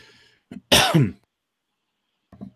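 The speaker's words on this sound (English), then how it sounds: "I coughed and then muted it after the cough instead of before." A single sharp, close cough, preceded and followed by brief soft throat sounds, then silence.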